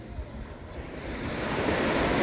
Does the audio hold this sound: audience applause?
no